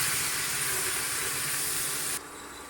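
Bay leaf, garam masala and onion paste sizzle in a hot wok while cooking basanti pulao: a steady, dense hiss that holds at full strength, then drops a little just before the end, with no talking.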